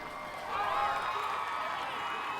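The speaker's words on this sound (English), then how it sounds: "we hear the jungle call from the crowd" A crowd at an American Ninja Warrior qualifier on Venice Beach lets out a Tarzan jungle call, a wavering, yodel-like chorus of many voices rising and falling over steady background crowd noise.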